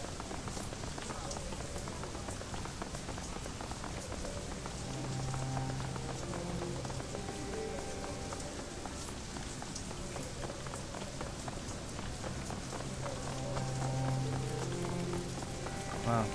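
Rain in the video game Shadowrun Hong Kong forms a steady, dense hiss of patter that runs unbroken from start to finish at a moderate level, with faint low tones drifting beneath it.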